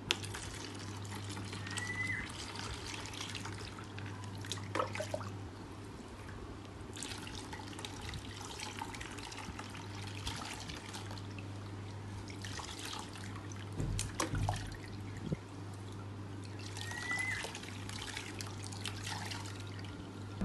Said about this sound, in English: Then rinse the hair with the warm water.